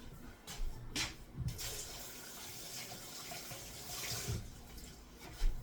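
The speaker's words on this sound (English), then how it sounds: "And now I'm gonna wash my hands." A kitchen tap runs while hands are washed, a soft, hissing stream of water with a few louder splashes and clunks scattered through it, fairly quiet and without speech.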